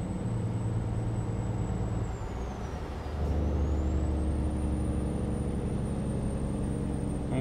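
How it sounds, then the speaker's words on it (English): Heavy truck engine laboring up a mountain interstate grade in American Truck Simulator, a continuous loud low drone with a whining tone that dips and then rises again midway, no voices. "you can hear my truck struggling right now"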